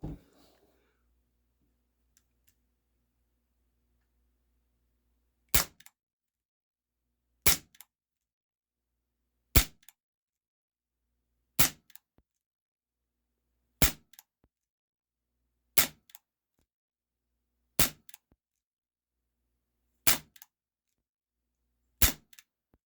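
A CZ 75 P-07 Duty 4.5mm airsoft pistol fires about nine single shots at roughly two-second intervals, each a sharp, crisp crack with a faint follow-up tick, with near silence between them.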